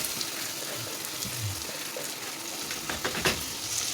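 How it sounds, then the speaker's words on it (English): Cumin seeds and freshly washed rice frying together in hot oil in a pot give a steady, close sizzle that holds through the whole stretch, with a few brief stirring scrapes near the end. "I'll let it fry a little, not to burn."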